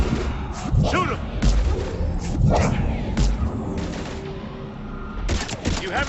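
Gunfire from the Mass Effect 3 video game on Xbox 360, a combat scene against husks, with repeated loud shots and bursts in uneven clusters over a dense battle backdrop, with voices shouting now and then.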